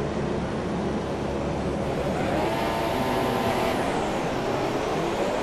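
Race cars rolling on a formation lap in the video game F1 2017 at the China circuit, a steady dense engine roar with rising and falling pitch sweeps as cars pass, continuous with no talk.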